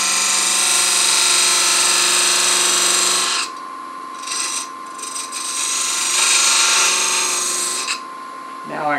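A gouge cuts into a spinning wooden footed box on a lathe, a loud sustained scraping hiss with a steady motor whine, breaking off into quieter intermittent cuts before resuming.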